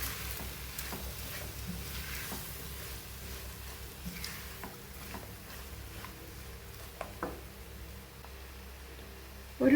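Mango pickle fries in a pan while being stirred, giving a steady close sizzle broken by soft scraping strokes of the spoon throughout.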